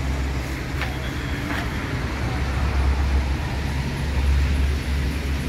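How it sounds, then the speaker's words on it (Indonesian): Steady roar of a convoy of ANS buses arriving at a bus terminal, deep engine rumble, large vehicles moving past continuously at close range, no clear voices. "Iring-iringan bus ANS"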